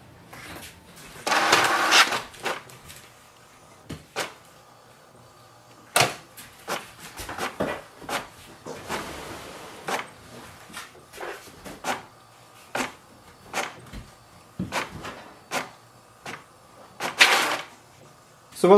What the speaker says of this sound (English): So once your printer prints